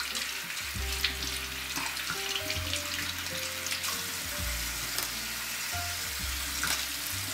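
Water runs steadily while makeup brushes are washed, a continuous splashing hiss with light scrubbing and clinks, at moderate distance and with no voices.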